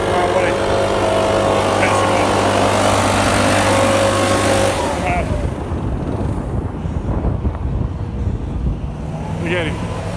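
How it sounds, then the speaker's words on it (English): A leaf blower runs nearby on a morning walking path, a steady loud roar with wind buffeting that shifts and thins partway through. "Look at this jackass running a goddamn blower right in my way."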